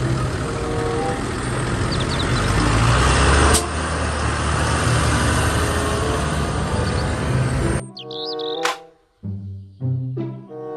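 A toy tractor gives off a loud, continuous mechanical drone with a steady engine-like rumble for about eight seconds, then cuts out and gives way to brief tonal beeps and chirps.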